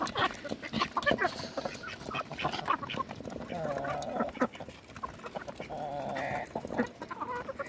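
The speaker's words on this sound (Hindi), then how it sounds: "काफी बड़ा मुर्गा है" Aseel rooster and hens on a poultry farm, with repeated clucking and fowl calls close by and someone talking over them throughout.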